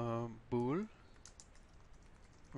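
Code being typed on a computer keyboard: faint, rapid key clatter fills a pause between stretches of a man's speech.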